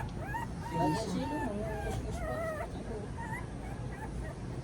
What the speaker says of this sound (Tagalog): Ito pala yung tuta.